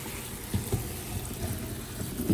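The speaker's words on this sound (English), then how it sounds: "Start by rinsing the peppers thoroughly under running water." Steady broadband rush of water running from a tap over peppers being rinsed, continuous and close, with a few faint clinks underneath.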